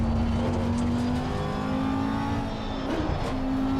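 Race car engine in the racing game Assetto Corsa Competizione, lapping Spa past the Kemmel Straight: a steady, loud high-pitched engine drone holding a near-constant tone, with a brief dip and rise as the revs shift near the end.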